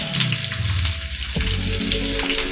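Chopped onions frying in hot oil for chili paneer make a loud, steady sizzle up close. A few low clunks of stirring sound in the pan.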